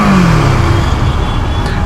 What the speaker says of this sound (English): So it emanates very nice sound actually when you actually rev the engine.